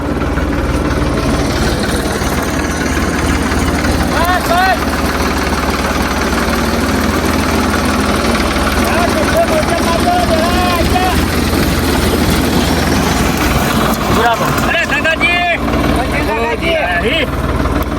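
Tractor engine idling in a village setting, a continuous low throbbing rumble running steadily the whole time while people talk loudly over it.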